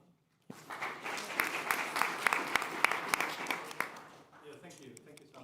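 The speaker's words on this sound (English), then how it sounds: "give him an applause" Conference audience at a Copernicus C3S general assembly breaking into applause, starting abruptly from quiet, a full wash of many hands with sharp individual claps standing out, then tapering off after about four seconds as murmuring continues.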